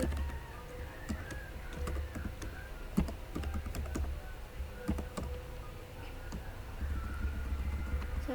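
Steady typing of OpenGL code in Dev-C++ on a computer keyboard, scattered sharp key clicks over a low background hum, close but moderately quiet, with no talking.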